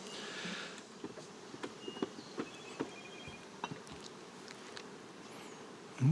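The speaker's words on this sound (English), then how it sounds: "looks like there's bees in the box" Low droning buzz of bees around a hive box, with scattered insects zipping past and a few soft knocks and taps.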